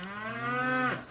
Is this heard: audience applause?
no